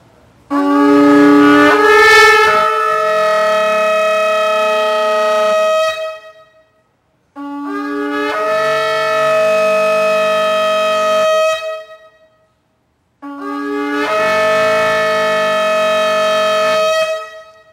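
Shofar sounding the tekiah call: three long, loud, brassy blasts, each held for about five seconds, separated by short silences, with a rough, cracking attack at the start of the first.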